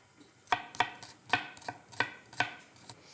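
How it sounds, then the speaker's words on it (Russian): Knife chopping garlic cloves on a cutting board in a home kitchen while making a meat pizza, six or seven sharp, evenly spaced taps, close and distinct, with no talking. "Измельчили лук и чеснок."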